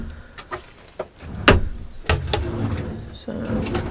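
Wooden drawers in a Ford Transit camper van sliding open and shut, a series of close knocks, slides and bumps with some rustling and movement in between.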